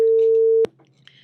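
A steady telephone line tone holds for about half a second, then cuts off with a click, leaving near silence.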